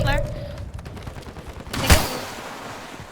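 Gunfire in the video game Call of Duty: Warzone on Ashika Island, with a rapid burst of shots and one louder crack in the middle. Voices talk over the shooting, and the volume fades afterward.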